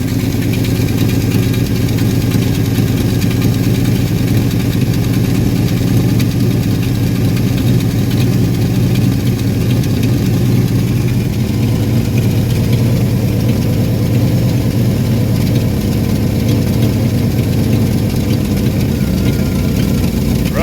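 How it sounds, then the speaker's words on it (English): A 1974 Ford Bumpside pickup truck engine idles with an exhaust leak, giving a steady, close, continuous low rumble that runs unchanged for about twenty seconds with no talking. "Definitely got a little bit of an exhaust leak back over here somewhere."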